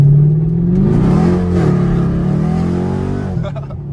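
A 500 hp catless Chevrolet Camaro SS V8 roars loud and close, holding a heavy droning rev that rises and then eases, with a voice briefly audible under it.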